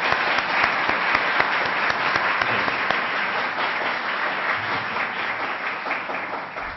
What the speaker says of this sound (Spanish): Agradezcámosle al profesor Eugenio Llamas con un aplauso su presencia aquí.